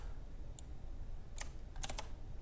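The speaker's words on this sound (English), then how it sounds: "You'd think I'd be better at typing by now from coding this long." Bursts of computer keyboard keystrokes during coding, a few isolated taps followed by a quick cluster of keys near the end, close and crisp over a low room hum.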